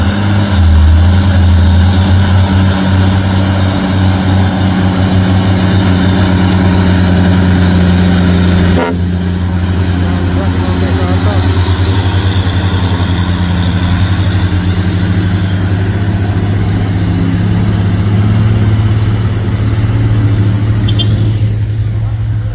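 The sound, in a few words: tank truck and Dino box truck climbing Bukit Kodok hill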